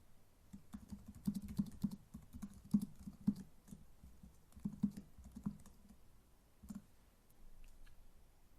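Keystrokes tapping on a computer keyboard while text is entered for a web form caption, coming in quick irregular bursts with short pauses, close and fairly quiet, with no talking.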